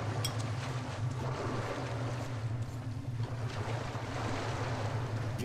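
River water flowing in the video game Metro: Last Light, a continuous low rushing wash with a windy hiss, even in loudness and without talk.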